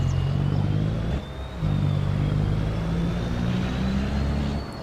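Road vehicles in the Farming Simulator 25 video game drive past, a steady low engine hum that shifts pitch and briefly dips before carrying on, loud and close.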